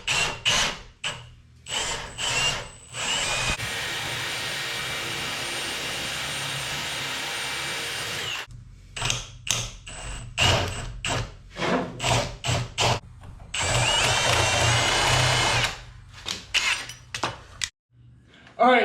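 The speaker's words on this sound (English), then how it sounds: "we're going to start drilling the hole now" A drill bores a hole for a truck shift handle shaft in close, loud bursts: short stop-start pulses, one long steady run, then more rapid on-off triggering.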